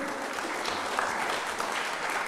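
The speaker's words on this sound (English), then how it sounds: "I think we'll applaud them all together when I finish" An audience at the First Convention of the National Dialogue of South Africa claps steadily, a dense even patter of many hands at moderate loudness.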